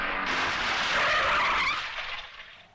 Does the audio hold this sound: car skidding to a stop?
yes